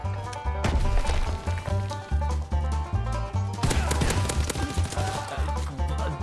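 Rapid, heavy gunfire from the video game Call of Duty WW2 cracks in dense bursts close up. Sharp impacts pile up over a thumping low rhythm, with clattering crashes and no clear talk.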